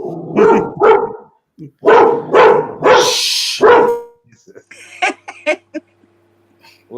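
A dog barks several times in quick bursts close by, mixed with voices, followed by softer yips and whimpers.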